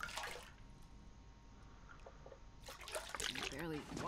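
Water being collected in The Long Dark, a soft trickle and splash, sparse and faint in the middle, with someone speaking at the start and end.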